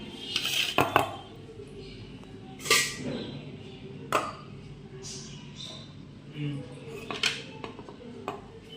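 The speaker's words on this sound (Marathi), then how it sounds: "आपण त्या एका प्लेटमध्ये काढून घेऊ" Freshly steamed idlis are lifted from the steamer onto a plate, producing scattered metallic clinks and clatters of utensils and steel plates at irregular intervals. A voice is heard now and then in the background.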